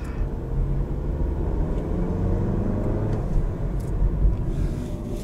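The 1.8-liter turbo engine of a 2017 Volkswagen Golf hums with a steady, low rumble while driving in sport mode, heard from inside the cabin with road noise and no talk.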